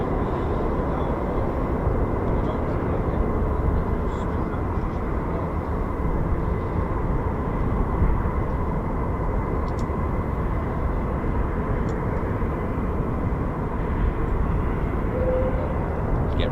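F-15 and F-35 fighter jets at RAF Lakenheath give off a steady, broad engine roar that holds unbroken and fairly loud throughout, heard from a distance without any nearby talking.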